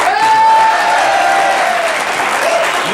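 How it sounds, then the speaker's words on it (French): Television studio audience applauding, a loud dense wash of clapping that holds steady throughout, with a faint tonal line and possible voice underneath. "Ça méritait bien ces quelques applaudissements"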